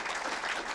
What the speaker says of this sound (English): So a big round of applause to all of those people.